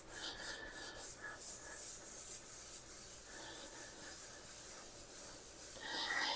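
Hand rubbing to buff scratches out of a surface makes a faint, steady back-and-forth swishing with soft rhythmic strokes, close and quiet, with no talking.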